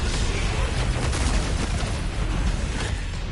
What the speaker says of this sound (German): du kriegst jetzt mal sauber einen BFG-Schuss in die Fresse